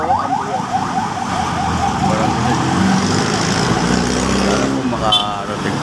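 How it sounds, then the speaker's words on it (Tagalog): An ambulance siren wails through congested traffic, heard from inside a vehicle stuck in the jam, its sweeping tone rising over steady road noise while people talk nearby. "yan po, ambulansya."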